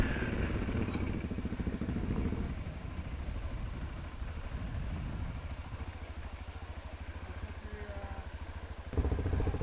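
Off-road motorcycle engine idling and revving in Cappadocia, Turkey, a steady close mechanical chug with a rhythmic pulse that shifts in pitch, then a louder rev near the end.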